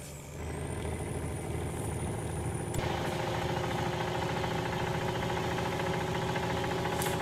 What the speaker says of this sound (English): There we go. Speeding on by in my dump truck.